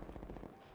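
Rapid automatic gunfire in an online shooter video game, a short burst of fast repeated shots heard up close, under a second long.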